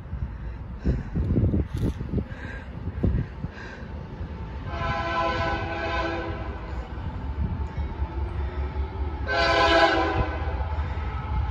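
CSX locomotive No. 1, the Spirit of West Virginia, leading a train past with a rumbling engine and rolling wheels, sounding two loud multi-tone horn blasts a few seconds apart.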